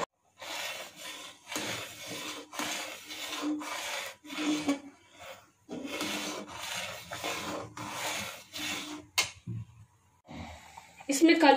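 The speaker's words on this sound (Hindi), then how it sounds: "इसको लगातार चलाते जाऊंगी जब तक चावल पक ना जाए" Spoon stirring kheer, a rice pudding with cardamom, in a pan, producing steady rhythmic scraping and rubbing strokes in repeated bursts, close and fairly quiet, with a brief pause near the end.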